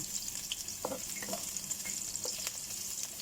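Garlic sautéing in a pan, a soft continuous sizzle with occasional stirring clinks, fairly quiet and heard close.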